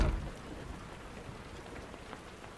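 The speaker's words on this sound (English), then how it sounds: "I turn and walk out the doors into the blissful rain of the morning sky" Steady morning rain falling and pattering on surfaces, a soft continuous hiss with scattered drops, fairly faint and alone.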